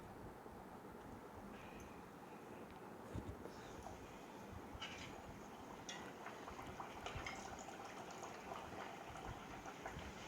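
Small rolled pooris frying in hot oil, a steady soft sizzle and bubbling hiss running throughout at low level, with faint crackles and occasional brighter spits as the dough puffs up.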